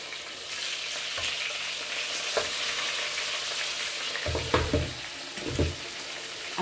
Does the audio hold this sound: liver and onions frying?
yes